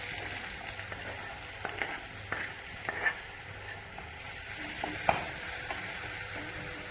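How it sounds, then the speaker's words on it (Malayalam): Chopped onion frying in hot oil with curry leaves, a steady close sizzle broken by the scrape and clack of a spoon stirring the pan, with no voices. "ഇനി നമുക്കിതിലേക്ക് ഉള്ളി ചേർത്ത് കൊടുക്കാം."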